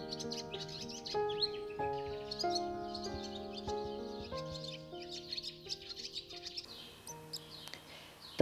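Swallows at the nest give busy, bright chirps and twittering calls, close and continuous, layered over soft background music.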